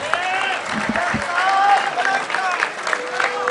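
An audience claps at a bar association convention in Gujranwala, with steady applause mixed with crowd voices and shouting from the hall.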